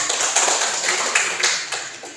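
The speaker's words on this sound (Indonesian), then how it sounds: "Tepuk tangan dulu, saudara." Classroom students applaud together during a lesson, a steady wash of dense, close hand claps running throughout with a few sharper individual claps standing out.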